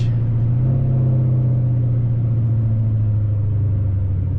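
Dodge SRT8 Challenger with an SLP Loudmouth exhaust revving: a loud, close, deep exhaust drone held at high RPM with a slight pitch rise, steady and without talk.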